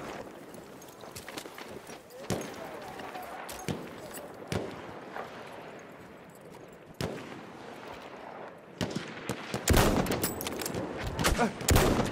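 Machine gun fire in the Battlefield 1 video game, scattered loud bursts and single cracks at irregular intervals, with a heavier cluster near the end, while shouted voices call out amid battle noise.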